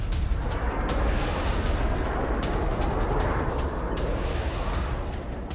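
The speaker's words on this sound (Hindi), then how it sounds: "इसी हमले के बाद तेज धमाके सुनाई दिए" Rumbling blasts from ballistic missile strikes on Tel Aviv, a dense, continuous roar of booming explosions and crackling reports that stays loud and steady throughout with no pauses.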